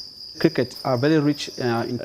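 Crickets raised as food for people in Nairobi, Kenya, give a steady high-pitched trill that runs throughout, while voice-like sounds carry over it in the foreground.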